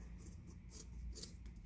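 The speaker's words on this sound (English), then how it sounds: "use your good scissors because, you know, this is going to be hard to cut through" Scissors cut through thick rope for nautical wall art, a close, quiet crunching and rasping with several gritty snips spread across the moment.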